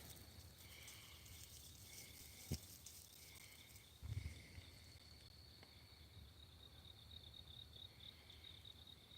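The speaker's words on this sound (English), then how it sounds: "Right now the crickets and the frogs are chirping" Crickets and frogs chirp at night outdoors, a faint continuous high trill of insects with a few soft thumps and rustles nearby, no talking.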